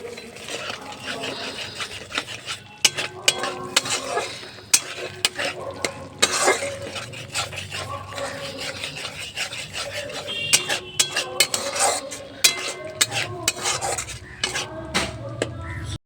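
Potato and okra being stirred with sesame masala in a frying pan: steady scraping and rubbing strokes over a soft oily sizzle, close and continuous, with irregular clinks of the spoon against the pan.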